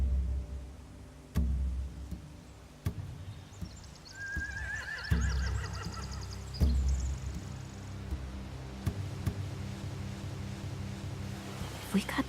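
Horses in The Walking Dead: The Final Season video game let out one clear, drawn-out whinny mid-scene, amid low game ambience, occasional clops and sharp ticks.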